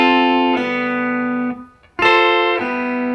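Electric guitar triad chords ring out with a reverb tail, strummed three times with a short near-silent gap between the second and third.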